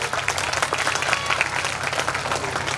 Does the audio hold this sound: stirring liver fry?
no